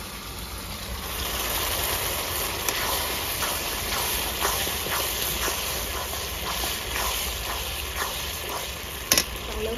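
Sour yogurt and chopped tomatoes cooking in a pan for palak paneer, with a steady low sizzle and faint scraping stirs running throughout, fairly even in loudness.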